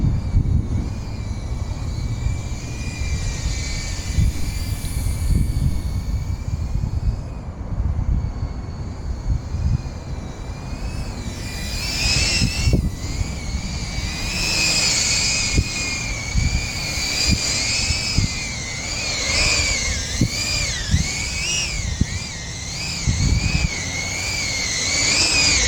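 A cinewhoop FPV drone on 8-bladed props flies in wind, giving a steady high whine whose pitch rises and falls with throttle, plus gusty low rumble throughout.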